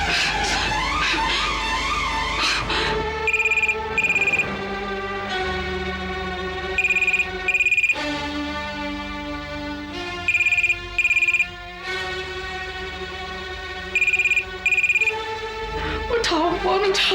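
A telephone rings in repeated paired electronic trills over dramatic background music from a Hindi TV serial, clear and prominent throughout.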